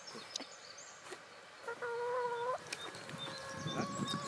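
Hens clucking in a garden plot, a few soft calls and a drawn-out cackle at middle distance over faint outdoor background noise.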